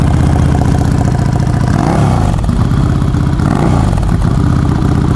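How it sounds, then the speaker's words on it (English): Motorcycle with a Supertrapp aftermarket exhaust idling close by, a loud steady throaty burble with small rises in revs, heard alone. "I think Andy's probably taken the crown on nicest sounding bike"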